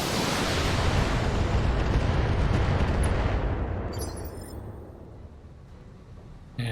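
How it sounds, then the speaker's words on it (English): A mech unloads its full weapon salvo in BattleTech: Urban Warfare, a dense roaring barrage of booms and blasts that sustains for about three seconds, then trails off into a rumbling decay with faint crackles and no talk. "Firing at full salvo."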